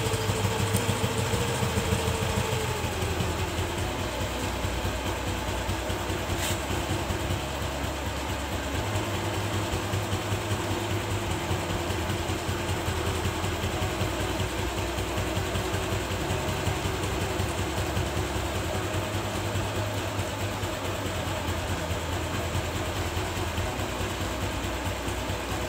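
A TVS Jupiter scooter engine idles after a carburetor air-fuel mixture adjustment, holding a steady, even low rumble for the whole stretch at moderate level with no talking.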